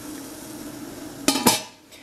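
Glass jar set into a metal pot with an IKEA ladle clinking against it: two sharp, close clinks in quick succession over a quiet background hum, no talking.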